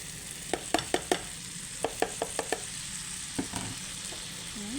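Steak bites and potatoes sizzle in a frying pan with a steady hiss, broken by a run of sharp clicks and taps as the pieces are stirred and turned.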